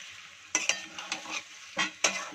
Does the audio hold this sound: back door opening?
no